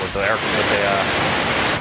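High-pressure water spray blasting over carbon ceramic brakes on a car at a wash, a steady loud hiss throughout, with a voice talking over it.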